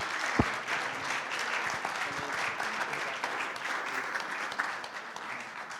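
A church congregation applauds steadily, the clapping fairly even and moderately loud throughout, with a sharp knock near the start.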